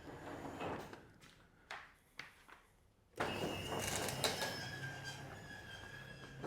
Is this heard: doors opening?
yes